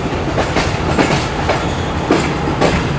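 Karakoram Express passenger train running on rails, with a steady loud rumble and rhythmic clickety-clack of wheels over rail joints throughout, no voices.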